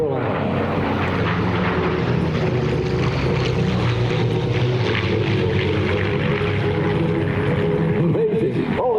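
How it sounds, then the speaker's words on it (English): A Curtiss P-40 Warhawk, a two-seat TP-40, drones loudly at an airshow with a sustained propeller-engine roar that holds steady throughout. Faint talk can be heard beneath it. "Watch now as the P40 lines up for the runway once again, coming in from the left."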